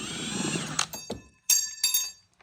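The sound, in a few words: Milwaukee 1/2-inch impact gun removing bolts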